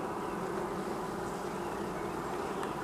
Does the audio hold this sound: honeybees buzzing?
yes